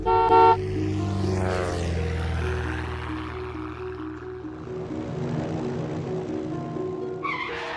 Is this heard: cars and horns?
yes